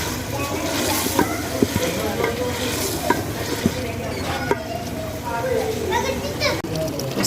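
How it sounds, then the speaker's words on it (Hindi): Chopped tomatoes and green chilies frying with meat in a pot, an even sizzle under scraping strokes of a stirring spoon, with a voice talking over the cooking and a voice audible in the background. "अब हम टमाटर और हरी मिर्च कटी हुई है वो डाल देंगे इसमें। और इसको अच्छी तरह भूनेंगे।"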